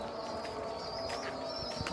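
Pigeons cooing close by in a kept loft, soft repeated coos with a few brief chirps over a low background hum.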